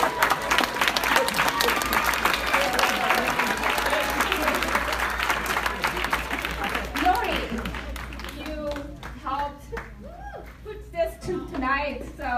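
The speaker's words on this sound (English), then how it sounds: "Round of applause." Diners at a black-tie gala clap in a round of applause that holds steady before thinning out, with a speaker's voice coming through as the clapping fades.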